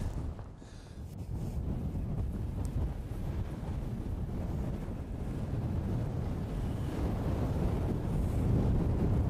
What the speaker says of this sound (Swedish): Vi har vind idag.